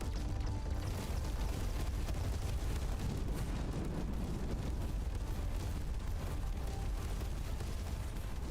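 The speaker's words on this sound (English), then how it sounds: "Here come the missiles." Missiles exploding in the space strategy game Terra Invicta: a dense, continuous rumble of overlapping blasts and booms, loud and steady throughout with no voices over it.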